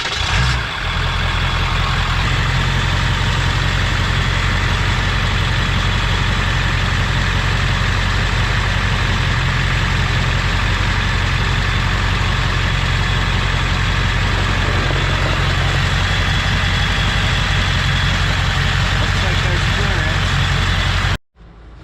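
A Ford Super Duty pickup's engine idles steadily and loudly for about twenty seconds while the front wheels are turned through their steering travel, a low continuous rumble with voices talking over it, cutting off abruptly at the end.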